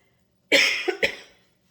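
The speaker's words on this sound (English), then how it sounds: "It's that COVID cough." A single harsh cough followed by a couple of quick smaller coughs, close and fairly loud, then silence.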